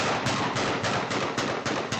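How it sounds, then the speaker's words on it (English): Gunfire from a news report on violence in a Washington, DC neighborhood, heard as a dense, loud, continuous crackle with sharp bursts recurring every half second or so, with no voices. "this story contains video and the sound of gunfire, and it may be disturbing"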